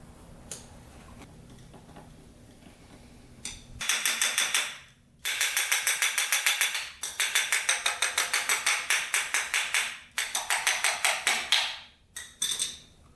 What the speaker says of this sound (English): Hopefully we can get out these screws.